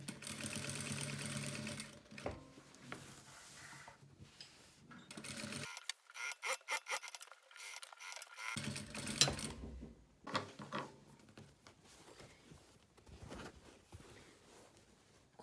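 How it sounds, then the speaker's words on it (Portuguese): A domestic sewing machine stitches fabric for a basic toiletry bag in steady mechanical runs that stop and start. A faint voice speaks between the bursts, and there is a short fast run of stitching near the middle. "e vou costurando."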